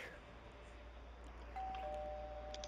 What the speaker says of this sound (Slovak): Niekto zvonil, určite pizza.